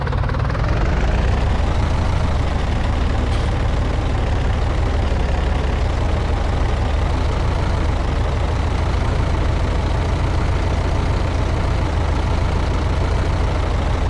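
A tractor engine in Farming Simulator 19 idling and pulling along in a steady, loud, low diesel drone with a faint knocking rhythm, continuous and close with no voices.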